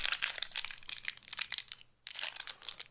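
Foam packing material is pulled from a box during unboxing, close-up crinkling and rustling in quick irregular bursts, with a short pause before handling resumes.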